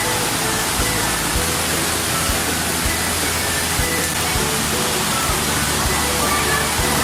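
Water current at a spot where people bathe, heard as a loud, steady rushing roar of flowing water filling the whole scene, with faint thumps and indistinct sounds mixed in.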